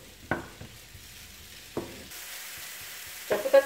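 Mushrooms sauté in a pan for a tortellini mushroom sauce, a soft steady sizzle with a few sharp stirring knocks, close and alone.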